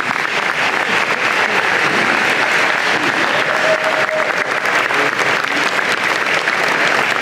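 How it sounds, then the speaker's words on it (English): A large audience at an engineering and computer science college convocation applauds promoted faculty, sustaining loud, dense, continuous clapping throughout. "Let's give them a round of applause."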